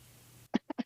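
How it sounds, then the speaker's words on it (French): Three short, close coughs in quick succession, the first strongest, after a faint background hum cuts out. "je tousse aussi"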